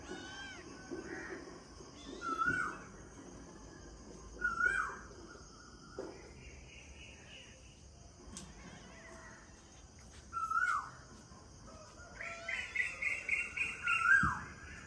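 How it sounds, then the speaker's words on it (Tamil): A koel calls from a tree beside a bedroom in the early morning, giving separate rising calls spaced a few seconds apart and then a faster run of repeated notes, moderately near, over a quiet background. "காலையில் 4 மணிலேருந்து இந்த குயில் கத்திட்டு இருக்குதுங்க."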